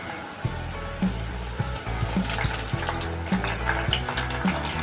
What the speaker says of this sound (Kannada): ಕರ್ಬೇವಿನ ಸೊಪ್ಪು ಹಾಕಿದಾಗ ಸ್ವಲ್ಪ ದೂರ ಇರಬೇಕು, ಯಾಕೆಂದರೆ ಅದು ಹಸಿ ಇರುತ್ತಲ್ಲ, ಅದಕ್ಕೆ ಸಿಡಿಯುತ್ತೆ ಅದು.